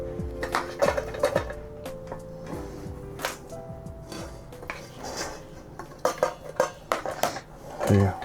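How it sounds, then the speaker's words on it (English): Potatoes are mashed in a metal pot with repeated scraping, knocking and clanking of the masher against the pot in an uneven rhythm, close up, with a voice now and then over it. "time to do some mashed taters"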